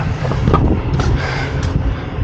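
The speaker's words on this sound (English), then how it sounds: "I always pull the short stick on the windy days. Got a rooftop unit. It's windy up here today." Steady wind roars and buffets against the microphone on a rooftop beside a rooftop HVAC unit, a low rumbling gusty noise with no voices.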